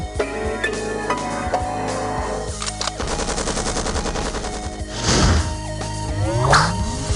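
Staccato machine-gun bursts arranged as a musical piece from the quiz game You Don't Know Jack, rapid rattling shots layered over tonal music, loud and continuous, with a denser burst near the end.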